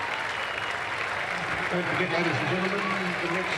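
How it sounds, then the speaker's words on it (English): Members' crowd at an evening one-day cricket match in Australia, Australia Day 2000 against India, give a sustained ovation; dense, steady applause fills the stands while a commentator talks over it. "a wonderful ovation from the members who have stayed here this evening"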